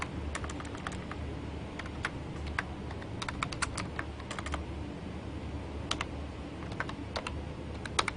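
Steady typing on a computer keyboard while entering a project name for a Visual C++ Win32 console application, with irregular clicking keystrokes over a low background hum and no speech.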